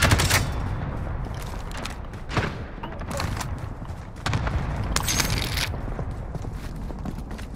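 Gunfire from Call of Duty Warzone on Rebirth Island, bursts of distant shots and rattling fire throughout, with voices chatting over it.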